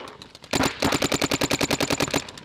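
Rapid-fire paintball marker shooting during a paintball practice session, a quick steady burst of roughly twenty sharp, close, loud pops that starts abruptly and runs without pause to the end.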